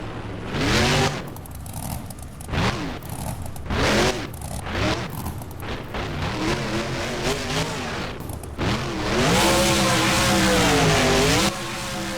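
Monster truck engine in the BeamNG driving game, revving loudly and continuously with rising and falling pitch as the truck jumps over buses and wreckage, with no talk over it.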